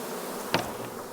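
A honey bee swarm hums in a steady, faint drone, broken by one brief, closer buzz as a single bee passes near.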